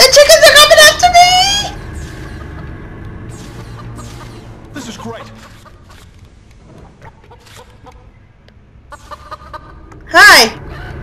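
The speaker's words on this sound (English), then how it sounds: "The chickens are coming after me!" Chickens in The Legend of Zelda video game let out a loud burst of squawking at the start and another sharp cry near the end, with a person talking excitedly in between over faint game sounds.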